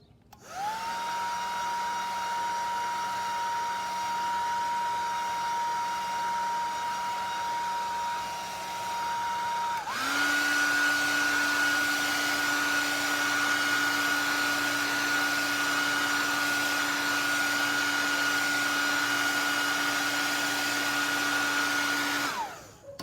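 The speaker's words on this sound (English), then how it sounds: "Okay, back to the hairdryer." A hair dryer runs continuously at close range drying a watercolor painting, a steady whirring roar that steps up to a louder, higher setting midway through.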